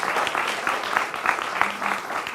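Studio audience on a Hindi television debate show breaking into strong applause to welcome a guest, a dense, continuous roar of clapping throughout.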